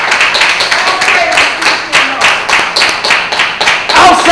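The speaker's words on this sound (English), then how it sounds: "Let's give another round of applause for that." A church audience claps together in a loud, close round of applause, rhythmic and lively throughout the short burst.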